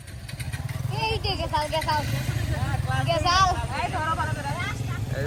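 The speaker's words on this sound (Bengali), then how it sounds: "এই যে সবাই বের হইতেছে, সবাই বাইক নিয়ে বের হইতেছে" Several motorbikes starting off together, engines droning and revving close by with a pulsing low rumble, mostly under people's loud talking and calling out.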